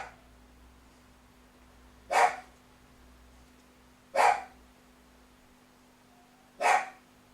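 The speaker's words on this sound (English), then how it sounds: "Another dog barking out there." A dog outside gives three single barks spaced about two seconds apart, faint and distant, over a quiet room with a low electrical hum.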